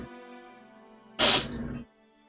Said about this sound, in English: I'm having a runny nose and been sneezing lately